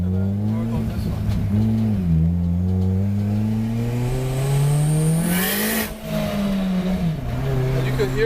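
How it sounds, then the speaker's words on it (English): Turbocharged car with a manual swap and custom tune accelerating hard, deep exhaust drone rising and dropping through gear changes, with a brief hissing wastegate burst midway and someone talking over the engine. "And you can hear the wastegate just from the bottom here."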